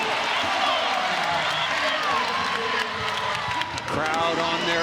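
A volleyball crowd at a women's college match between Tennessee and Louisville rises to its feet at match point, cheering and clapping in a loud, sustained roar that fills the arena, with a commentator's voice running over it.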